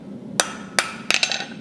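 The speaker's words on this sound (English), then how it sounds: "I'm just using a round bit of my hammer just to push that transition over." Blacksmith's hammer, struck with its rounded face against metal to push a transition over: two separate ringing blows, then a quick cluster of lighter taps, close and sharp with metallic ring.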